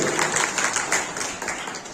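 An audience claps at the 49th annual general meeting of Bagasara Nagrik Bank, dense, lively applause of many hands, steady and fairly close, easing slightly toward the end.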